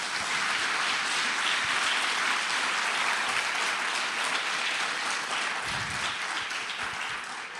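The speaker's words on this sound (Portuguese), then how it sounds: "Aplauda Jesus" A church congregation applauds during a sermon, sustained and fairly distant clapping that holds steady throughout and fades slightly toward the end, with no speech over it.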